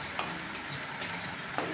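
Steady sizzling of onions with a little turmeric frying in a pan, with a few light clicks of a utensil stirring, continuous and close with no talking.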